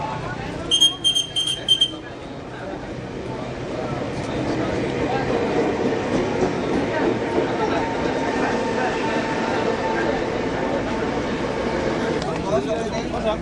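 A commuter train bound for Depok stands at an Indonesian station, opening with a few electronic chime beeps, then a steady rumble and hiss of the train as a station announcement plays over it.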